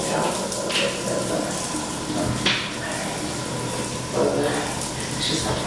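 A shower runs steadily throughout, a continuous wash of spraying water with a few brief louder splashes as someone rinses off beneath it, with faint voices in the background.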